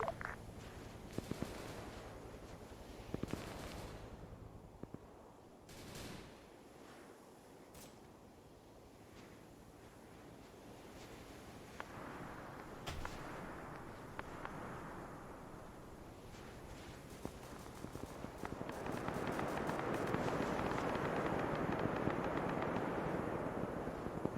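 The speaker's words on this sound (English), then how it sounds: "Be advised, you are taking AA fire." Anti-aircraft fire in the Arma 3 video game rattles as scattered bursts and thuds under steady aircraft engine roar, building to a denser rumbling wash toward the end, with no speech.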